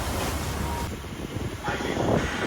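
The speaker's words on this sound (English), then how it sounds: "we haven't had seas like this for quite a while. All wind." Strong wind roars across the microphone at sea aboard a sailing boat heading upwind in rough seas, with broad gusty noise and a surge swelling louder near the end, no speech.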